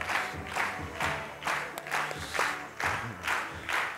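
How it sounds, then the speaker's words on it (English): An audience breaks into applause for a speaker at a health and longevity talk, with steady clapping that swells in rhythmic waves and a few cheers rising from the crowd. "So give a big round of applause to Lee Holden."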